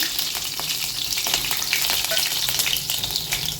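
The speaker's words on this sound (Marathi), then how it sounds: "तेल गरम झालं की त्यामध्ये थोडीशी मोहरी घालून घ्यायची मोहरी चटडायला लागली की अर्धा चमचा जिरं घालून घ्यायचं" Mustard seeds, cumin and finely chopped small green chillies fry in hot oil for a Marathi pumpkin jhunka, a dense, loud, continuous sizzle with quick pops and crackles throughout and no voices.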